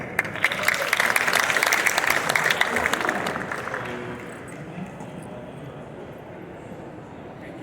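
An audience on the lawn at a startup pitch showcase breaks into full applause that holds for a few seconds, then thins out and fades into quieter outdoor ambience.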